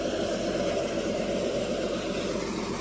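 A tractor engine runs at a steady, low, droning hum while driving a Jangeer soybean threshing machine, an even mechanical rumble without talking.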